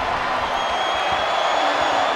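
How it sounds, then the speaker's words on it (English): An arena crowd in the wrestling game WWE 2K24 roars with a loud, dense, sustained wash of cheering and whooping, no voices standing out. "What a raucous crowd here tonight."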